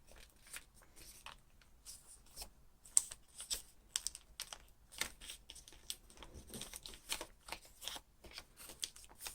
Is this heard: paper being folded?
yes